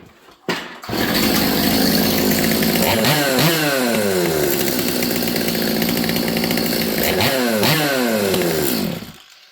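A Stihl MS200T chainsaw running rich and boggy after its air filter was refitted, starting up and revving loud and close, with two sweeping throttle blips bending the engine note before it cuts out.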